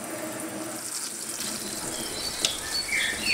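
Cold tap water runs steadily from a kitchen faucet while sprout seeds are rinsed, a continuous close splashing hiss with a few small clinks near the end.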